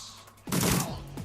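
A single burst of gunfire from the video game Shadowrun Returns, a sudden loud blast that rings out briefly and fades, heard alone.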